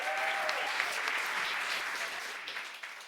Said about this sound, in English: big, huge, huge round of applause for Matt Lloyd